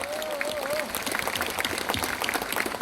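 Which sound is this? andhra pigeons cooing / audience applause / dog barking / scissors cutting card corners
audience applause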